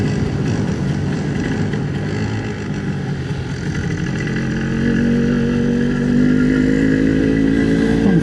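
An MZ TS250/1 Supa Five motorcycle being ridden, its engine droning steadily close by and rising in pitch as it accelerates toward the end.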